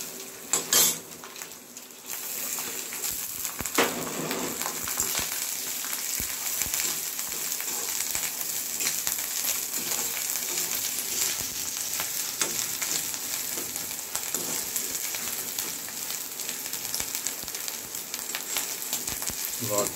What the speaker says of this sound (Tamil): இப்போ இது வந்து நெய்யில் பொரிச்சு போடலாம்